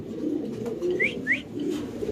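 Desi pigeons coo in a low, steady rumble that fills the whole stretch, close by, with a couple of brief higher chirps from other birds over the top.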